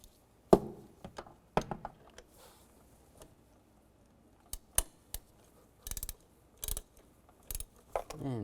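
A ratchet tightens the bolt on a variable valve timing solenoid of a 2007-2013 Mini Cooper engine, with sparse clicks and short bursts of turning spaced across several seconds against a quiet background.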